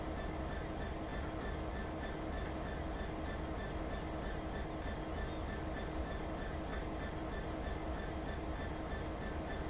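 A Great Western Express train in Train Sim World throttles up, its engine and rolling wheels forming a steady, loud, unbroken rumble with faint clatter throughout.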